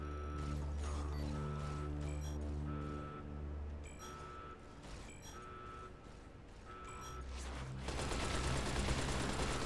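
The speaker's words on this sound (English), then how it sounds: "I'm hearing more firing." Gunfire in the game Fallout New Vegas: The Frontier, a steady stream of rapid shots over a dense layer of droning game music and effects, swelling louder and noisier near the end.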